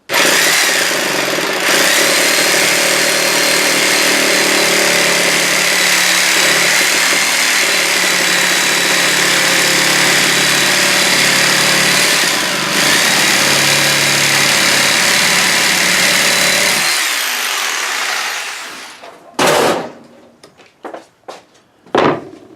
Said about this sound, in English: you can saw it really quick. If you don't have a Sawzall, you can use a hacksaw